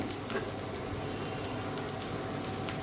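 Onions frying in oil in a pan for a Maharashtrian bitter gourd bhaji, giving a steady, soft, even sizzle with faint crackles throughout and no talk.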